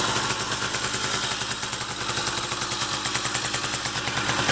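A Riga-13 moped engine idling outdoors in a yard after a new spark plug is fitted, giving a rapid, steady two-stroke putter that stays close and even throughout.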